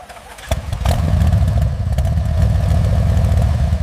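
A new Harley-Davidson Sportster Evolution V-twin motorcycle engine cranks and fires up, then settles into a loud, lumpy, throbbing idle close by.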